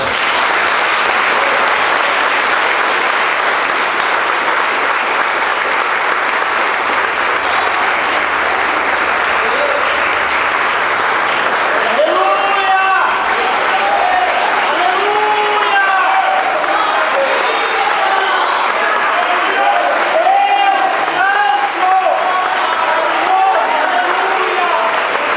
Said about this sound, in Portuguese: eu queria que você aplaudisse isso